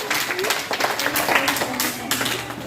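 Short clapping from a group of children in a school classroom during a near-and-far counting activity, dense and close, mixed with a teacher speaking and children's voices.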